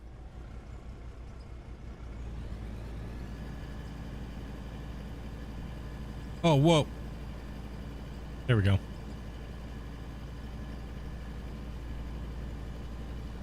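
Truck engine in the mining game Out of Ore, a steady low drone that rises after a couple of seconds and holds, with a voice talking briefly over it twice.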